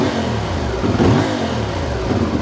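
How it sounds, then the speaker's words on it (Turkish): A Yamaha MT450 motorcycle engine revs under throttle during a coolant change, a loud, steady mechanical roar that swells slightly in the middle and holds for the whole stretch with no talk. "Biraz gaz vereceğim."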